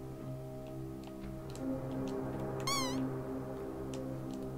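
A cat meows once in the video game Momodora: Reverie Under the Moonlight, a short rising-and-falling call standing out over steady game music and ambient tones.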